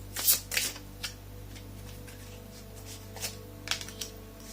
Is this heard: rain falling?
no